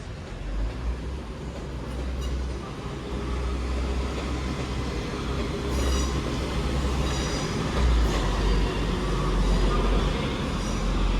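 A six-coach TransPennine Express train departing Manchester Piccadilly for York, a steady loud rolling rumble of wheels on rails with faint squeals, continuous throughout.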